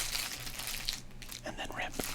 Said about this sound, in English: No further ado, I think we're going to crinkle